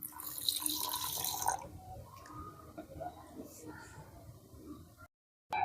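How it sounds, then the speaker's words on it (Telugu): Water is released into a farm field, first as a bright running gush, then as softer trickles and drips, with a person talking quietly over it. "సో ఇందులో కూడా నీళ్ళు వదులుతున్నాను."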